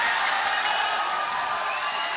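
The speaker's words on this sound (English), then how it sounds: "Crowd coming to life." Crowd at a boxing match cheering, a broad, steady roar of many voices at moderate distance, swelling slightly toward the end.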